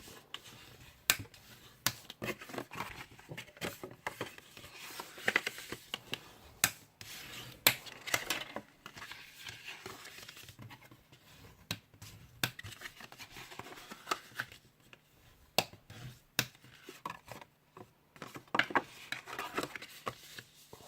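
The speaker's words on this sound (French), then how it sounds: "on va d'abord marquer les plis" Paper box being scored along its fold lines for a Halloween craft project, producing soft, irregular scraping and tapping strokes, close and quiet, with no talking.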